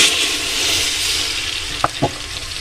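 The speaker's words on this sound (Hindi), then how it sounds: "अब हम इसमें 1 कप तेल डालेंगे।" A steady hissing, bubbling pour of a cup of oil into a pressure cooker, with a couple of short knocks near the end.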